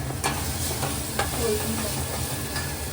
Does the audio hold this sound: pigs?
no